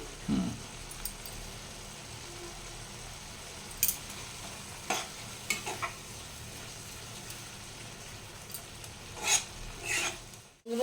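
Faint, soft sizzling of spice paste simmering uncovered in a pan, releasing oil, with occasional light scrapes and clicks.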